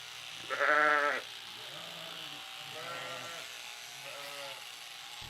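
Sheep bleat several times with nasal, wavering calls, one loud and close near the start followed by softer, more distant bleats over a quiet background.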